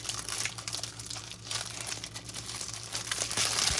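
Plastic wrapper around individually packed microfiber cleaning cloths crinkles up close in soft irregular rustles and crackles for a few seconds, with no voices.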